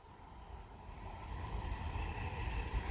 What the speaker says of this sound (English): It's another Class 390 Pendolino for Avanti West Coast.